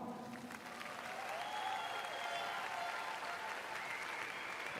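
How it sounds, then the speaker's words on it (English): Steady applause from a sizeable crowd at an indoor cycling world championships final continues throughout, even and sustained, with a faint tone drifting underneath. "Acknowledging the applause."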